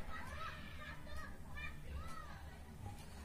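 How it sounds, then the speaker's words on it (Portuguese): Children shout and play outside in the neighbouring apartment building, heard faintly from a distance as scattered high cries over a low background hum. "As crianças gritando lá embaixo, gente."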